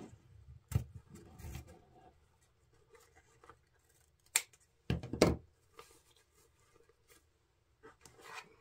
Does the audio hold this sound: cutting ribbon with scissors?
yes